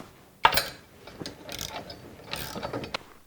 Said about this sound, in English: Now I'm going to take a 10mm and snug up all of these small little bolts